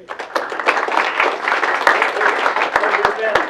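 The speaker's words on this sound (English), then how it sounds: "So let's give him a round of applause" Applause from colleagues at a Mozilla project meeting welcoming a new employee, a burst of clapping with a few sharper individual claps, with voices talking over it.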